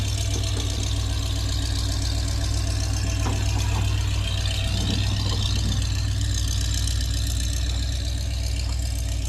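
Ford Bronco engine idling and running steadily as it drives itself off a trailer, a continuous low rumble with a faint knocking throughout, close and fairly loud with no talking.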